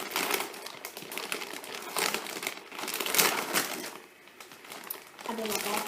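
A plastic bag of Tirakkina snacks is torn open and crinkles loudly and continuously for several seconds, with rustling and crackling close up and no clear talking.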